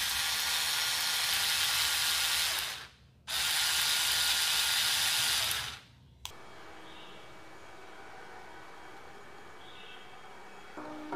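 Topshak TS ESD2 cordless electric screwdriver with a flexible shaft whirs loudly up close in two bursts separated by a brief stop, then drops to a quieter steady hum.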